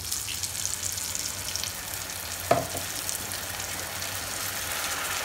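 Masala paste fries in a pan with a steady, close hiss and sizzle and a brief clatter partway through.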